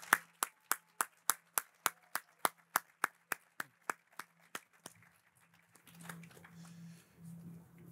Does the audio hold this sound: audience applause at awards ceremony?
yes